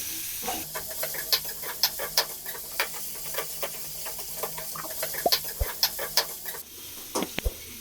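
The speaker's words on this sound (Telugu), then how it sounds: "బ్రౌన్ కలర్ వచ్చేదాకా వేయించుకోవాలి" Onions fry in hot oil in a pan for an omelette, a continuous sizzle broken by rhythmic scraping stirs, close and fairly loud, with a couple of sharper clanks near the end.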